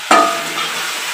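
Food frying in a pan for an iftar meal, a sudden loud scrape of stirring followed by a steady hiss of sizzling that gradually settles.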